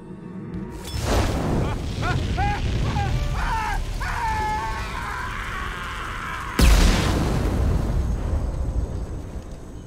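Rumbling Mass Effect 2 explosions roll through a dense, noisy backdrop, with a sharp loud blast partway through followed by a long, crackling roar.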